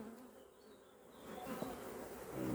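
Honeybees buzzing at a hive as a queen colony is moved to a new box, a steady faint insect drone that swells slightly louder toward the end, with no talk.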